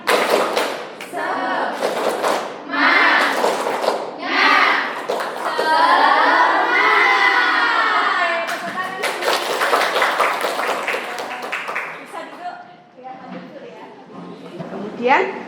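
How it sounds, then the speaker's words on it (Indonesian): Schoolchildren in an Indonesian classroom performing the rhythmic 'tepuk semangat' clapping chant, loud bursts of claps and chanted voices in a patterned rhythm, with the teacher's voice and children's shouting mixed in. "Tepuk semangat."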